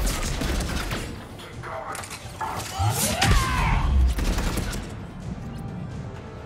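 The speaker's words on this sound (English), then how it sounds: "Who just shot at me?" Bursts of rapid gunfire and heavy impacts rattle through a Mass Effect 3 firefight, a dense, fairly close clatter swelling mid-clip over a rumbling background.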